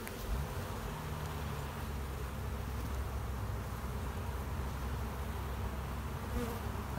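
Honeybees buzzing in an opened beehive during a hive inspection, a dense continuous drone of many wings, steady and close with no talking.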